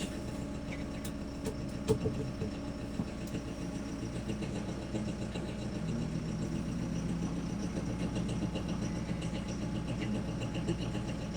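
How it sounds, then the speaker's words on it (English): A borrowed tractor engine runs steadily as it pulls slowly out of a tight shed, a continuous low idling rumble with a few faint clanks near the start, close by and without talk. "I'm borrowing my uncle's tractor."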